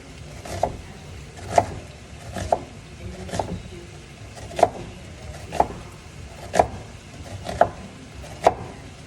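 Knife chopping an onion on a cutting board while cooking Jamaican ackee and saltfish, about nine sharp, evenly spaced chops close up with soft shuffling between strokes.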